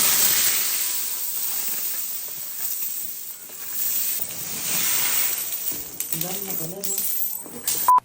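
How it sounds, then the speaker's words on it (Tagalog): Many coins from an old suitcase being handled, sounding as a continuous rustling, clinking jingle up close, with a brief voice near the end. "Isang maletang barya nga yung bibilangin natin ngayon."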